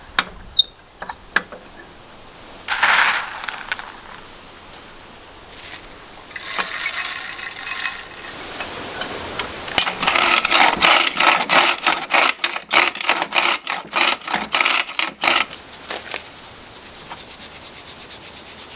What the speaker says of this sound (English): So we're going to do one more pass as tight as we can get in the jaw crusher